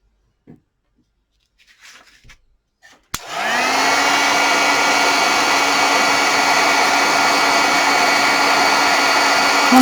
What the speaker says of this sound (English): Once the heat tool starts to heat up, they do go a bit quicker.